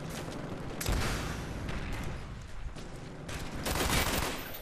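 Rapid bursts of gunfire in the video game Call of Duty: Black Ops, dense and loud, with heavier volleys near the start and again toward the end.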